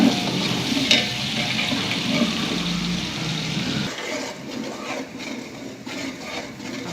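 Water is splashed into onions frying in a pan for biryani, giving a close, steady sizzle and bubbling that drops in intensity partway through as the pan settles.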